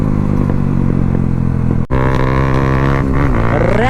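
Motorcycle fitted with an Akrapovic exhaust runs loud and steady close by, the engine note briefly cutting out then resuming with revving and rising pitch, crackles and pops not clearly distinct from the drone.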